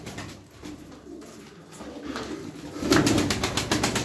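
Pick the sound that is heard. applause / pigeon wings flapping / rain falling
pigeon wings flapping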